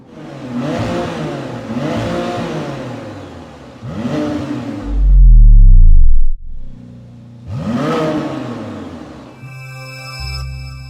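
A McLaren Artura high-performance hybrid supercar, a 2023 model, revs up in four sharp climbing blips with pauses between them, plus a deep loud swell in the middle, heard close and alone.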